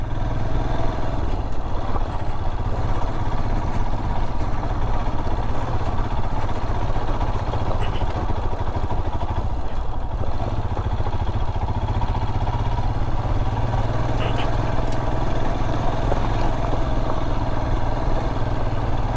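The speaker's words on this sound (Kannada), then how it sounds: "ಆರಾಮಾಗಿ ಹೋಗು ಪವನ್, ಸ್ಪೀಡ್ ಮಾಡಬೇಡ ವೆಹಿಕಲ್ಲು ದಯವಿಟ್ಟು." Motor vehicle engine running steadily while riding through Bengaluru, a continuous mid-pitched drone with some clatter that stays loud and even throughout, with no voices.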